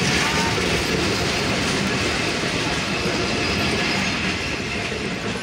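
The 766 Nilsagar Express intercity train on the Chilahati to Dhaka route rolls past near Saidpur with a loud, continuous close rumble, rattling wheel clatter and faint squeal throughout.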